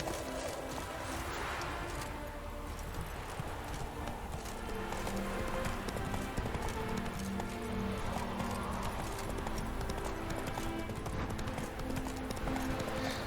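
Geralt's horse Roach running through the world of The Witcher 3, steady clip-clop hoofbeats continuing throughout under game ambience and music, with an occasional whinny.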